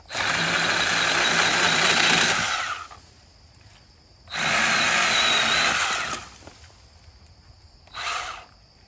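A Milwaukee M12 Hatchet cordless pruning saw cuts through a log in two loud, close bursts of buzzing chain about two seconds each. Quiet gaps separate them, and a brief final rev follows.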